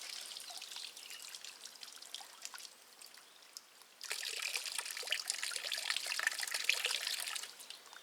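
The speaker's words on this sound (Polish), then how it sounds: "Troszkę wody do wiaderka." Water trickles and pours into a bucket during outdoor material washing, a faint, thin stream that softens in the middle and then returns more strongly in the second half.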